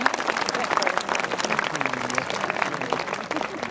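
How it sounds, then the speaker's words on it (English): Audience applause at an outdoor falconry show at Warwick Castle after a falcon's flight, a burst of crowd clapping at close to moderate distance that holds steady throughout, with a voice talking over it. "Let's give Zulu a big round of applause for her efforts."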